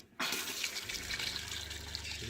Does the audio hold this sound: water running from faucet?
yes